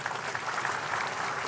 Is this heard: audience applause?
yes